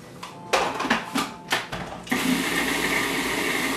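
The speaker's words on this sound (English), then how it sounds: "So I'm going to mix it a little bit more so it's really a fine mixture." Hemp seed mixture for raw superfood balls is processed in a food processor: a few knocks and clicks come first, then the motor kicks in with a loud, steady whirring grind that runs to the end.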